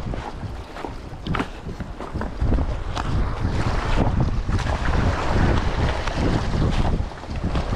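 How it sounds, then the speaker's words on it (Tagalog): Wind buffets a boat on a family fishing trip, a loud, steady rush of gusty microphone noise mixed with water movement, with no talking over it. "Hangin man."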